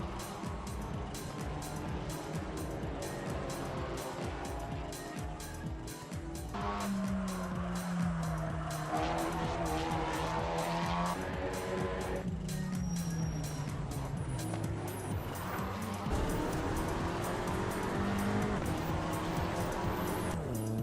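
A German car mod driven in the Assetto Corsa racing game, its engine droning steadily and shifting pitch through gear changes, with faint tire noise and no voices.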